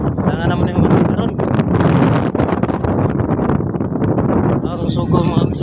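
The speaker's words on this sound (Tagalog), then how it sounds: "So kusog yung hangin mga kabigs" Strong wind buffets the microphone on a structure near a mall while a tarpaulin is being hung, a loud continuous rumbling roar with rustling that runs throughout.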